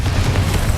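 Confringo blasting spell in Hogwarts Legacy, a short, loud, low rumbling burst within a busy combat soundscape.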